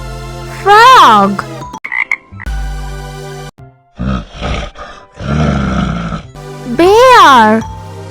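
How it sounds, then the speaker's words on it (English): Deep, rough frog croaks in loud bursts, mixed into an upbeat children's music track with sweeping tones and a roar-like growl. "Frog."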